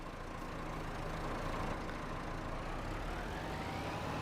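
Tractor engine idling steadily in Farming Simulator 25, a low, constant rumble with a faint mechanical whine, unbroken and moderately quiet.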